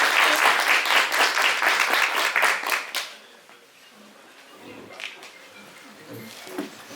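Dense applause from a crowd at an award ceremony fills the first three seconds, then fades out, leaving a quiet room with a few scattered sounds.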